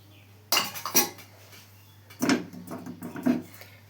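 A wok set down on a gas stove in a home kitchen, heard as two sharp metallic clanks followed by a few lighter knocks and scrapes of metal against the burner grate, close and fairly loud.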